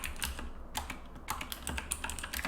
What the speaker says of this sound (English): And then he starts typing furiously.